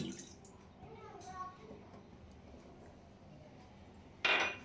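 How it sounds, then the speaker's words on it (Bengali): One cup of water is poured into a wok set on the stove to start a coconut filling. A short, bright splash of pouring water comes near the end after a quiet stretch with faint background voices. "এবার এই কড়াই আমি দিয়ে দিলাম 1 কাপ পানি।"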